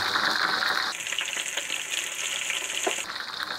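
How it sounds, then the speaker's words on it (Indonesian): Hot oil sizzles and crackles steadily as duck fries, a dense close hiss with occasional pops. "kita goreng bebeknya"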